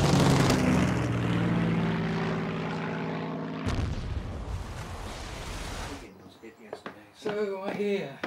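Spitfire and Hurricane fighter aircraft dogfight over the coast, their loud roaring engines swelling and cutting out abruptly before a voice speaks briefly.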